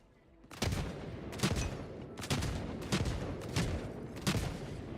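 Autocannon fire in Helldivers 2, loud and steady: about six heavy booming shots at an even, unhurried pace, each with a short rumbling tail. No voices over it.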